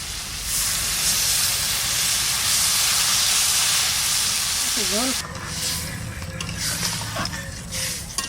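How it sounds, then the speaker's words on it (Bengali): Steady loud hiss and sizzle of crab curry cooking in a hot pan, with a surge of steam as water is poured in; the sizzling settles slightly afterward, with faint clatter. "কষানো হয়ে গেছে এবার জল দিয়ে দেবো"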